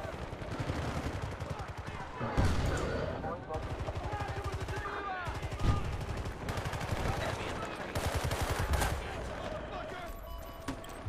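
Rapid bursts of automatic gunfire from a house during a Battlefield: Bad Company 2 tournament match, dense rattling volleys with sharper single shots that continue throughout, under steady talk.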